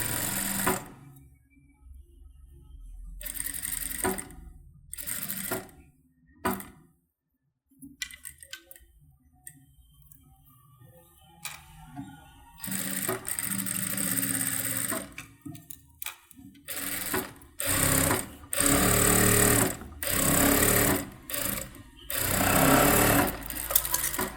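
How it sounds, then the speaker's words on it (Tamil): A sewing machine stitching the neck of a saree blouse runs in repeated bursts of fast mechanical whirring, close and loud, separated by pauses with small handling sounds and no speech. "இந்த குறுக்கிலே ஒரு தையல் போட்டுக்கோங்க"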